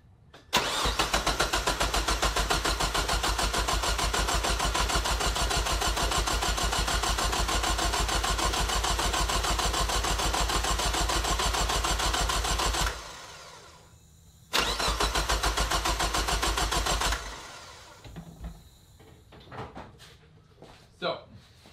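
A 1998-2003 Mazda Protege engine cranks over on the starter with the relay pulled so it won't fire, priming the oil pump after an oil pan gasket job: a long steady loud whirring crank, a brief pause, then a second crank.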